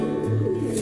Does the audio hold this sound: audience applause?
no